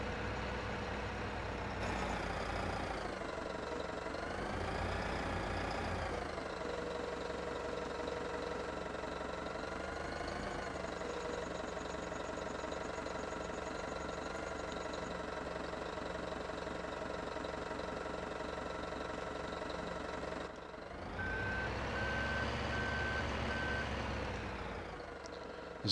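A truck engine idles steadily and reverses with a repeated warning beep, hauling bales in a farming game on the Lawfolds Aberdeenshire map. It is loud and continuous, with a brief dip before the engine swells again near the end.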